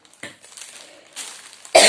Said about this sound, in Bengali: কাশি এখনো ঠিক হয়নি।